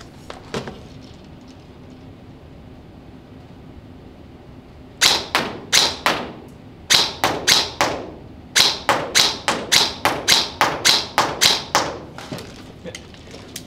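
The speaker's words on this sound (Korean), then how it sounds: "자, 두 번째 사격 시작하겠습니다." A G&G SGR 556 airsoft rifle fires test shots outdoors, with sharp snapping reports in quick bursts and short pauses between them, close and loud over a faint steady background hum.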